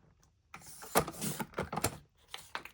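A craft knife slices through gray mat board for a craft project, making a series of quick scraping, clicking strokes that start and stop over a couple of seconds, close and fairly quiet.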